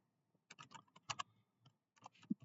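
Short bursts of keystrokes on a computer keyboard while entering a pip install command for Pygame in PowerShell, soft and close, with brief pauses between clusters of clicks.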